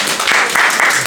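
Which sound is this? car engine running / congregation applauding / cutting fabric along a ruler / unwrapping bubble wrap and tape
congregation applauding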